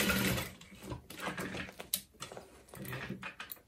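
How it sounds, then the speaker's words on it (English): A sewing machine stitches along the bottom seam of a satchel bag, running in short irregular bursts of close mechanical rattling and whirring with brief pauses between runs. "start sewing where I stopped sewing along the bottom"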